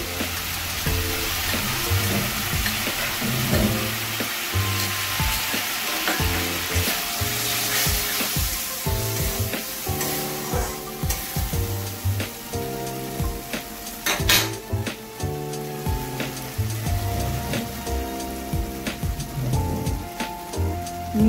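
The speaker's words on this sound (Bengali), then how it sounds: "এবারে চীনাবাদাম পেস্টটা দিয়ে দেব।" Peanut paste sizzles in a hot pan for an okra masala curry, a steady close crackle with spatula scrapes and clinks running throughout, no talking.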